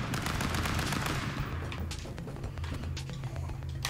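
Rapid, dense gunfire from the video game Stick Fight, a continuous stream of overlapping shots at steady loudness with no one talking.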